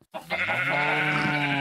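A sheep bleats in Minecraft with the Sevtech Ages modpack, one long wavering baa that starts after a brief pause and holds steady, close and clear.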